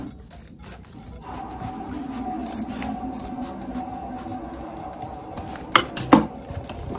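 Scissors snip through Ankara fabric being cut for a cap, close rhythmic shearing that ends in a few sharp metallic clicks of the blades.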